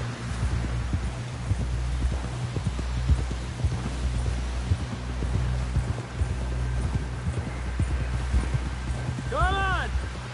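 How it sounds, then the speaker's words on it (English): Horse hooves clop in a steady galloping rhythm over a low throbbing hum while riding in the video game Red Dead Redemption 2, with a brief tonal chirp near the end. "Someone help John down off this horse"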